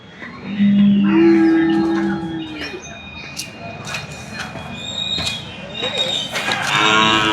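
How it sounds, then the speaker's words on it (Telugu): Jaffarabadi buffaloes at a livestock market give a loud, drawn-out moo near the start, followed by scattered animal calls, clatter and market bustle, with people talking nearby. "ఒకసారి గేదెలు అయితే చూపిస్తాను చూడండి"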